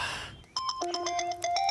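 A phone rings on an outgoing call: a short electronic ringtone melody repeating a few times, close and clear, with no talk.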